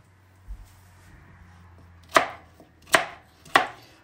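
A knife chops a pumpkin into pieces on a board: one light tap, then three sharp, separate chops spaced under a second apart, close and crisp in a quiet room.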